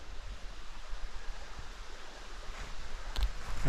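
A forest brook running through its last bit of white water into a beaver pond, heard as a steady, close rushing hiss of flowing water that swells slightly toward the end.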